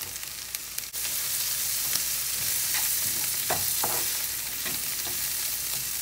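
Garlic and ginger are stir-fried in sesame oil, giving a loud, continuous sizzle with a few soft scraping stirs close by and no talk.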